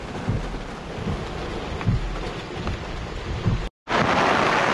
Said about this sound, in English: The storm is here.